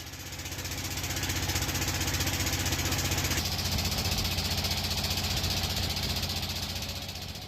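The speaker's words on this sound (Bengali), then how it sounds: "আমাদের নৌকাও ইঞ্জিনের বিকট শব্দ তুলতে তুলতে ঘাটে পৌঁছে যায়।" Loud boat engine on a river in Sylhet, a continuous heavy thudding drone with a fast, even knock that stays close and strong throughout, without any talk.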